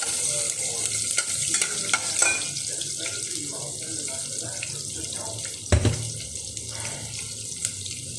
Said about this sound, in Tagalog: Gasan ko lang tong okra.